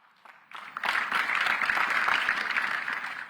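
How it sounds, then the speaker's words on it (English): Audience applause at the US-Africa Business Summit 2023 opening ceremony, swelling quickly after a short quiet start into a steady, full roomwide clapping that holds to the end. "let's give a round of applause"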